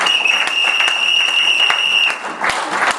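Church congregation clapping and cheering in acclaim, a dense sustained wash of applause with a steady high ringing tone running through it, dipping briefly near the end before swelling again.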